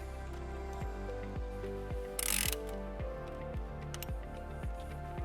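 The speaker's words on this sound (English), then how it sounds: "Now we'll attach our ring terminal and we'll reattach the nut." Ratchet with a 12mm socket tightening a battery terminal nut on a 2016 Toyota RAV4, a close series of rhythmic clicking pawl strokes repeated about ten times, with a brief rustling burst partway through.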